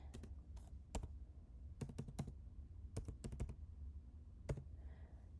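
Quiet clicks of typing on a computer keyboard, a word tapped out in short irregular bursts of keystrokes, near and faint with no talking.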